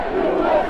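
Crowd outside a Trump rally at Madison Square Garden in New York City, a dense roar of many voices shouting together, loud and sustained for under a second.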